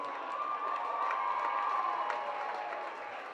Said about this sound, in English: Can we get a huge round of applause for our runners-up in our first grade competition, the East Campbelltown Eagles?